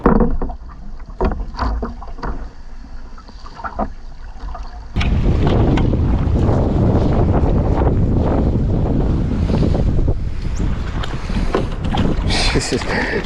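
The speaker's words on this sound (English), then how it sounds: "the wind's picked up something horrific" Strong wind blowing at sea buffets the microphone in heavy, continuous roaring gusts, rising sharply partway through, with boat and wave noise underneath and a voice faintly audible.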